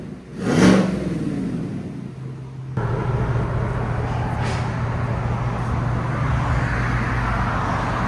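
A 2024 Chevy Silverado RST with a 5.3L V8 and a Borla Atak LS crate muffler, a loud close exhaust rising in a rev early on, then settling into a steady deep drone.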